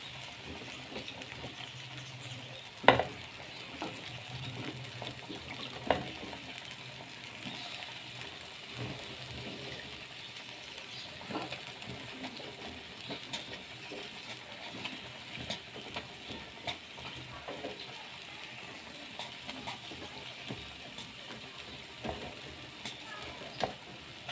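Drumstick pods (moringa) tossed and stir-fried in a pan, giving a soft, steady sizzle with faint scrapes and a couple of sharp clinks, low and continuous throughout.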